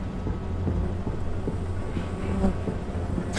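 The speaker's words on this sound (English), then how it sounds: "Oh, they're not bees on here, are they? They're flies." Flies buzz in a dense, steady drone in the video game Close to the Sun, with a rumbling background and no talking.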